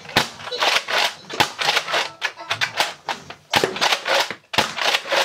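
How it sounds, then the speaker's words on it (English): A Nerf Star Wars Deluxe blaster fires foam darts at close range: a rapid series of sharp, snappy mechanical pops, about seven shots in quick bursts, near and loud. "dart will not hurt your BB-8, honestly, but if you're really lucky and you happen to have, let's say, the Deluxe blaster, you can absolutely shoot his head off"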